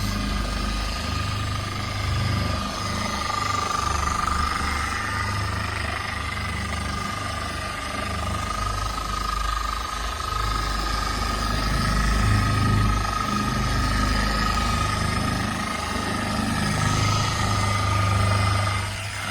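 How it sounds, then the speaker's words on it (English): A car polisher with a buffing pad whirs steadily against a car's paint during detailing, a constant mid-level motor drone with a low hum that keeps up without a break. "You'll just have to get used to the pad and the polisher, the way that it feels."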